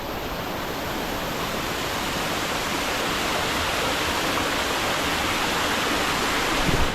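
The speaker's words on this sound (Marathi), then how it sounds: "तुम्हाला मी दाखवतो माझ्या मागे एकदम वॉटरफॉल" A hidden waterfall tumbles down cliffs at reduced flow after several dry days, producing a loud, unbroken roar of rushing water that holds steady throughout with no talking.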